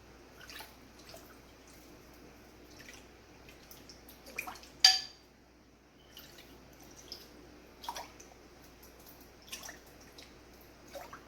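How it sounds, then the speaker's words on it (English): Excess liquid is poured out of a pot of broccoli and pasta soup, dripping and trickling with a few small clanks, water sloshing and splashing faintly in an irregular pattern. "I want to take out some of the liquid"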